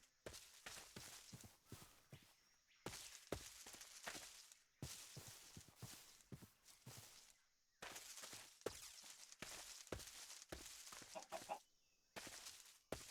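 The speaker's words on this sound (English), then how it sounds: "Another rooster." A rooster clucks in the Minecraft video game, faint, repeated clucks in short bursts mixed with pattering, footstep-like sounds, with no talking.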